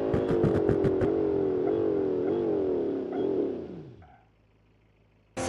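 A Lamborghini in the BeamNG.drive driving game roars loudly with a steady engine drone that sweeps downward as it slows, fading out into near silence before a sharp burst at the very end.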